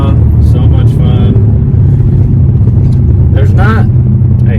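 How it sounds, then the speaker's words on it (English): A car engine, the RedEye, revs hard and loud after a carbon fiber driveshaft install, a steady low rumble running throughout with rising whine bursts near the end. "those RPMs are revving quickly"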